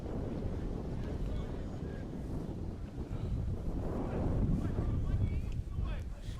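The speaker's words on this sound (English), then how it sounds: "Very windy down here tonight." Wind buffets the microphone at an outdoor football ground during a Campbelltown City versus Adelaide City cup match, a continuous rough, gusting roar with a stronger surge toward the end, loud and close.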